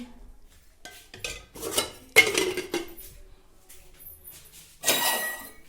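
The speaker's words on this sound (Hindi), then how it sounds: "पहले तो बर्तन धोऊंगी" Dishes, pots and utensils clink and clatter while being washed in a home kitchen, in irregular bursts of clanking with short quiet gaps, close and fairly loud.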